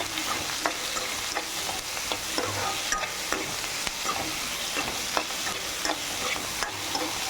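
Onions and tomatoes sauté with rock salt in a pan, a continuous sizzle under repeated light scraping and stirring taps at an uneven rhythm, close and unaccompanied by voices.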